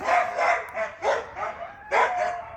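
Several dogs at a home bark in short, loud bursts with a few higher yips, the outbursts coming in clustered waves close to the listener as a family car pulls in.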